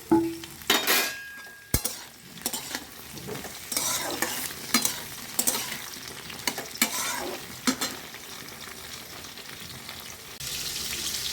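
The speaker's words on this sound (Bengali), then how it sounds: "আলুটা ভাজা গেছে, এরপর আমি টমেটোগুলো দিয়ে দিলাম।" Potatoes and tomatoes fry and sizzle in a pan, with steady sizzling under repeated scraping stir strokes and light clinks of a utensil against the pan, fairly close and continuous.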